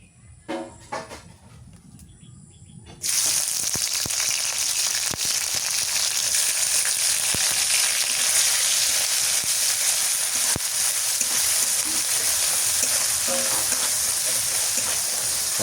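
Dried fish sizzles loudly in hot mustard oil once it hits the pan after a few quiet kitchen clatters, a constant close hiss with occasional utensil knocks.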